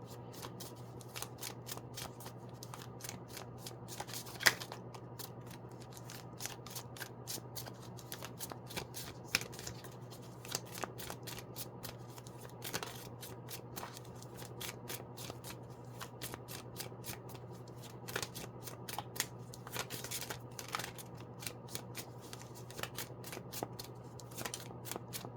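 Tarot cards are shuffled close up in a quiet room, a long run of quick, light papery riffles and taps, soft and irregular, with no talking.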